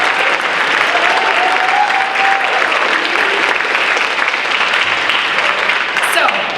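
Sustained audience applause fills the hall at an NHS induction ceremony, loud and steady throughout, with faint voices and cheers mixed into the dense clapping.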